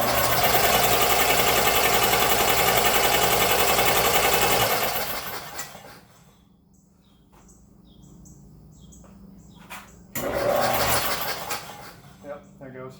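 An air compressor plumbed in with filters and a check valve runs with a loud, buzzing motor drone, cuts out into near quiet, then kicks back on briefly before settling.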